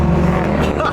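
Built turbocharged Subaru STI making about 431 hp accelerating hard at full throttle, a loud, close, droning engine roar that holds steady for a brief moment with a voice over it.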